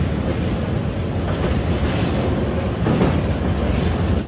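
The Himsagar Express runs on rails through Jammu and Kashmir near Kathua station, a steady, loud low rumble with faint rhythmic rattling throughout and no voices.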